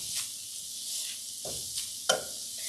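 Seasoned ground beef for tacos crackles faintly in a skillet as a utensil scrapes and stirs it, with a sharp clack near the end.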